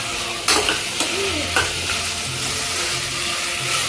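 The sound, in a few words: potatoes and peas frying in pan for tomato bath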